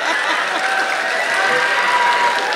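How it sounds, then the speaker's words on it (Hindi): An audience at a Hindi poetry recital in Dubai claps continuously and loudly, a dense sustained applause with some murmuring and chuckles mixed in. "ताली तो आप लोग ऐसे बजा रहे हैं"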